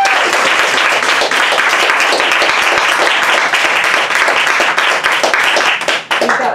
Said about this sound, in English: Let's have one more round of applause for Michael and Dad.